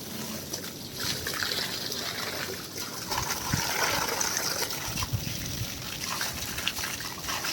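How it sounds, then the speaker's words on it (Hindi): Water pours from an opened tank to water trees, a continuous close gushing and trickling that splashes unevenly, with a few louder spattering bursts midway. "खोल दिया टंकी और मेरा पानी पहुँचने लगा।"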